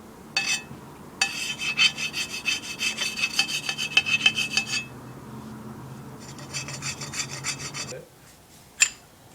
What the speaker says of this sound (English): Scrape off all the old RTV, clean it out with some brake cleaner.